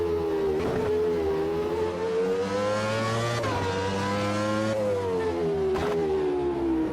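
A V8 Formula Classic race car engine in Automobilista 2 at Cascais revs continuously at high pitch, rising and falling steadily at speed, loud and close with no talk.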